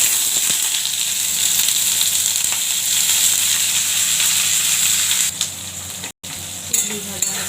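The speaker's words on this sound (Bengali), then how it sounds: "কুদুরি ভাজা হচ্ছে, ডাল দিয়ে খেতে ভালোই লাগবে।" Ivy gourd (kundru) frying in a pan, a loud, steady close sizzle with hissing crackle that continues throughout, briefly cutting out near the end before resuming.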